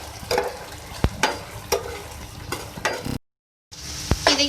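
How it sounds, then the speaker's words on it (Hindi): Cut okra, about 300 grams of bhindi, frying in oil in a pan for a Hyderabadi fry, with steady crackling sizzle broken by several sharp stirring scrapes and a brief silent gap before the frying resumes. "हम पैन में ऑयल हमने लिया है, इसमें मैं 300 ग्राम भिंडियाँ हैं, इनको मैंने कट कर लिए हैं, ये हम ऐड कर रहे हैं"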